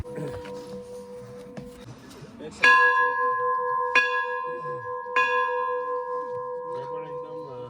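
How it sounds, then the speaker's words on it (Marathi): A brass bell outside the Charan Paduka shrine of the Shri Datta temple at Guru Shikhar, Mount Abu, is struck three times, each loud clang ringing on with a long shimmering decay, after a few softer chimes in the background. "चरणपादुका मंदिराबाहेर असणारी पितळी घंटा तीन वेळा वाजवल्याने आपली मनोकामना पूर्ण होते"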